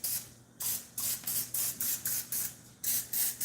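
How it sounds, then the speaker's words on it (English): Quick bursts of a cooking oil spray, about nine short hissing pumps in an uneven rhythm, close by with no talking. "and spray on top a little bit too."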